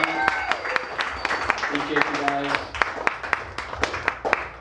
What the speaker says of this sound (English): One more round of applause for Mike Dabo